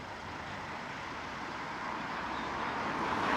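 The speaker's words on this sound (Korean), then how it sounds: "신호가 바뀌어서 이제 차가 달리고 있습니다. 차 소리가 커질 거예요." Steady road traffic noise as cars drive past after a signal change, a broad continuous roar that grows slightly louder toward the end, with no voices over it.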